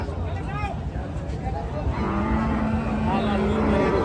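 Brahman, cross-Brahman and Shahiwal bulls at a busy cattle market, heard as a low bellow or moo over a steady crowd din with talk and background noise throughout.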